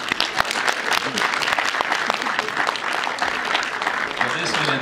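An audience at a pre-screening presentation of the film Noah breaks into sustained, dense applause, steady and loud across the whole stretch, welcoming a Riga Lutheran congregation pastor to the stage.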